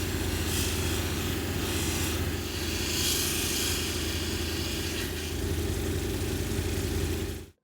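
A rock is polished on lapidary grinding wheels, a steady motor hum with a grinding hiss above it, loud and continuous throughout before stopping abruptly at the end.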